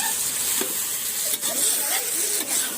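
Buffalo meat stirred and fried in a pot while cooking outdoors on an outing, a dense continuous sizzle with intermittent scraping strokes, close and fairly loud.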